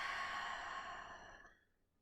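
A deep, slow exhale through an open mouth at the close of a breathing practice, a soft breathy rush heard up close that gradually fades into silence.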